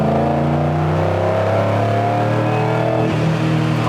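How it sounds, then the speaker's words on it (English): A supercharged LS-powered 1971 C10 protouring truck with a roots-style blower and six-speed accelerates hard, its engine note a loud, steady, rising roar heard from close by with no talk. "Can you kick it down and just run up on that truck"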